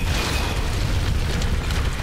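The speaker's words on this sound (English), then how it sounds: "Give me the explosion. That's what I wanted." A loud, sustained explosion in the Tomb Raider video game, a dense continuous roar and rumble that fills the whole short stretch with no pauses.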